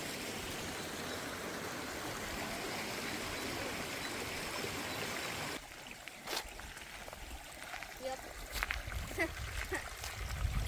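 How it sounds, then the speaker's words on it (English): A steady wash of flowing creek water fills the first half, then quieter trickling and scattered drips and splashes follow, with faint rustling nearby, on a hiking trail in Pinnacles National Park, California. "It was very refreshing listening to the running and dripping water while we were hiking."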